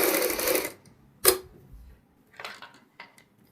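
A sewing machine stitching a zip onto a high-neck kurti collar runs in a short burst, then stops, followed by a few small clicks and handling taps. No one speaks.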